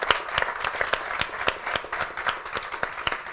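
An audience at an Odoo Days Italy conference session claps for visiting technical institute students, with warm, continuous applause and sharp individual claps popping out close by.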